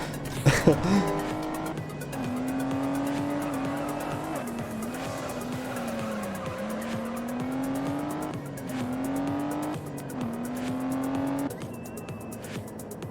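Nissan 300ZX in a racing video game, engine droning with shifting pitch and tires squealing through corners, loud and continuous across the run with a sharp impact near the start.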